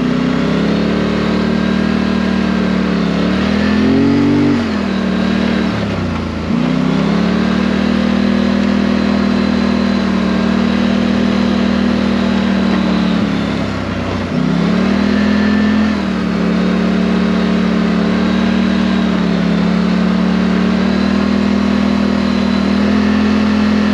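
A steady, loud engine of a Highlifter 1000 ATV drones continuously while riding, with a couple of brief dips and rises in revs as the vehicle shifts or slows.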